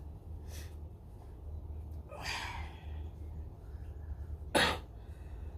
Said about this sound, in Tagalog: Kaso lang, naubo ko.